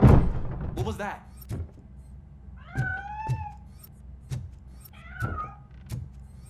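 A cat in RoboCop: Rogue City lets out several distinct meows, loud and close, spread across the span between door and mechanical clunks, and no one speaks over them.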